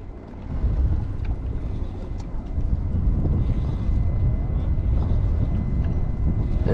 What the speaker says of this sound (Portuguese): Eita, a ventania.